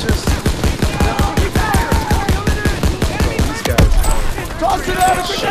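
Rapid machine gun bursts rattle through a World War II firefight in Call of Duty WWII, a steady stream of sharp close shots with a heavier blast near the middle and shouted voices mixed in.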